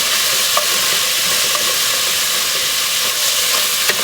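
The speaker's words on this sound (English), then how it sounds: "You can see you can start scraping up some of those brown bits." Browned bits are scraped from the bottom of a pot of pork and Hatch chile stew with softening onions, a continuous close sizzle with soft scraping strokes and occasional light clicks, no talking.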